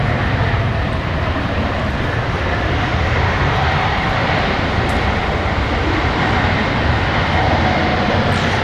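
A Breeze Airways airliner passes at Washington Dulles airport, its loud, steady, broadband jet roar filling the whole stretch without letting up and with no voices over it.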